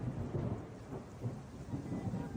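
A thunderstorm with rain produces a continuous dense rumble and hiss, with low thunder swelling and fading in slow waves and no distinct drops or voices.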